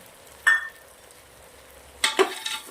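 Soya chunks, tomato and vegetables sautéing in butter in a pan give two short bursts of sizzling and stirring, the second one longer, with quiet gaps between.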